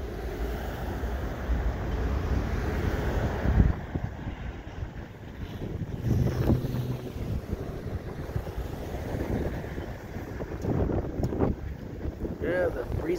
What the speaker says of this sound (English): the breeze is coming up